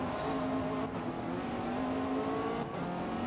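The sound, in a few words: Zenvo TSR S car engine racing, Forza Motorsport video game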